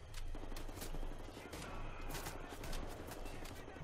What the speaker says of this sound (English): This shotgun's not working out right now.